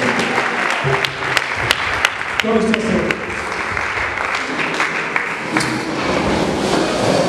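A congregation claps together during an evening church worship service, the broadband applause continuing steadily throughout beneath a voice speaking and people calling out.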